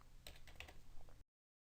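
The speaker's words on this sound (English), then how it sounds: "So in this case I'm going to have to retype" Keys clatter on a computer keyboard as an entry is typed, a quick, uneven run of close, soft clicks that stops abruptly into silence.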